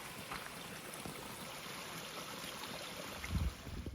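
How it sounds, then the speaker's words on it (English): Water flowing steadily at a creek water source along the Pacific Crest Trail, a continuous soft rushing wash heard alone with no talking. "water source. It's flowing pretty good right back there."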